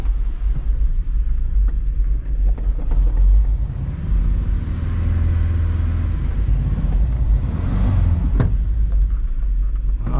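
A Volkswagen Vanagon, just back from a brake master cylinder repair, is put in reverse: a close, steady low engine rumble holds throughout, with a brief louder knock near the end, and no voices.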